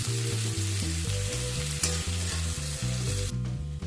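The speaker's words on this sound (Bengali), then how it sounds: "হালকা করে এবার পেঁয়াজটাকে ভেজে নেব।" Sliced onion frying in a pan gives a continuous close sizzle that plays under steady background music, with no talking.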